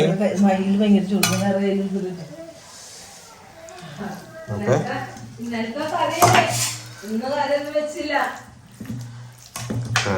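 A spoon scrapes and clanks against a metal cooking pot as food is stirred in a home kitchen, with intermittent metallic knocks and clatter running under close conversational talk from several people.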